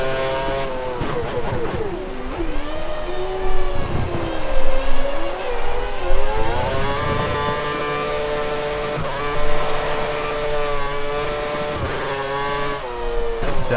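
Formula 1 race car engine from the F1 2013 racing game, a loud high-revving whine with rising and falling pitch through gear shifts, running continuously with brief talk over it.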